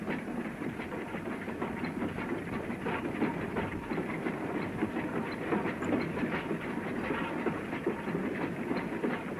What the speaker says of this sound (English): See the fringe of Sedgemoor from the footplate of a goods train.